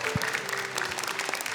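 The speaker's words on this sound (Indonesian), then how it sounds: "tepuk tangan untuk Abuya dan juga Akila" Audience applause on a televised Indonesian Quran memorisation competition show: a steady, dense patter of many hands clapping at moderate volume, with a faint voice or tone running underneath.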